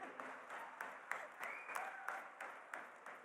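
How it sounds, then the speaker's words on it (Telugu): A crowd at a film launch event applauds, a faint, distant patter of many hands clapping steadily throughout. "వాళ్ళందరి కోసం మళ్ళీ ఒకసారి క్లాప్స్ కొట్టండి."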